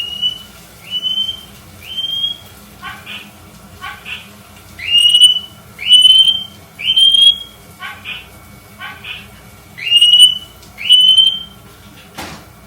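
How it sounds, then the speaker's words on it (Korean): A ceiling smoke detector goes off in a home kitchen while Japanese curry rice is cooked, sounding a repeated, loud high-pitched beeping chirp in uneven pairs, with brief voice-like bursts between the tones. "지금 화재가 났다고 천장에 있는 기계가 반응해서"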